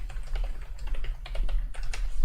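Loud, forceful computer keyboard typing, an uneven flurry of sharp key strikes over a low steady hum, close and prominent.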